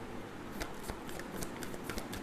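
Tarot cards drawn from a deck, with quick papery flicks and snaps in a short, close, quiet burst.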